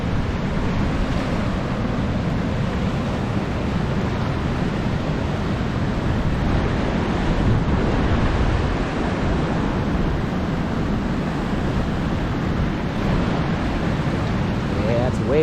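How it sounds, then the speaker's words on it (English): A raging river rushing hard with strong wind: a loud, continuous broadband roar of churning water and gusty wind noise buffeting the microphone, steady and unbroken throughout. "Just gonna give you some nice shots of the raging river."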